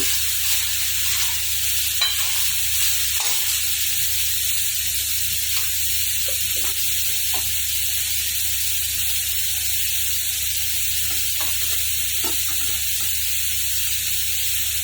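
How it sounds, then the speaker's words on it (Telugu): Chopped carrot being stirred into a pan of carrot curry, a steady low sizzle under soft scraping and stirring strokes that recur every second or two, close and moderately loud with no talking. "దీనిలో కట్ చేసి పెట్టిన క్యారెట్ కూడా వేసేస్తున్నాను. అంతా కలిసేట్టుగా బాగా కలపాలి."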